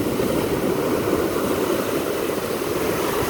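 Ocean waves washing onto a Florida beach, a loud steady broadband rush of surf with no breaks and no voices.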